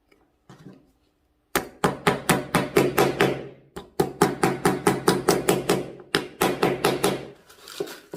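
A hammer drives nails into a wooden book stand in a woodworking workshop, struck with wrist motion rather than the arm: two bursts of rapid, evenly spaced ringing blows, close and loud, separated by a brief pause.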